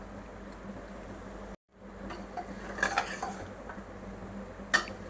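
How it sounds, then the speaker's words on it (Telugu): A spoon scrapes and clinks against a pan while bitter gourd curry with coriander powder is stirred, with soft clatter continuing over a low background hum, a brief silent gap and a sharper clink near the end. "ఇప్పుడైతే మనం కలుపుకుందాం. ఇది ధనియాల పొడి వేసుకుందాం."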